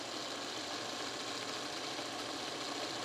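Sewing machine running a back stitch on a pillowcase seam, a steady close mechanical whir held without pause, no voices.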